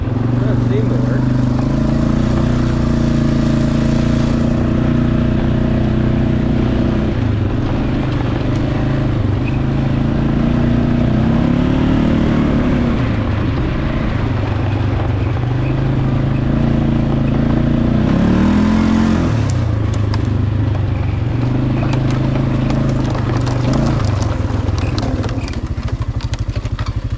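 A Polaris Sportsman 500 ATV engine works up a hill, loud and close, its pitch rising and falling repeatedly as the throttle and load change over the climb.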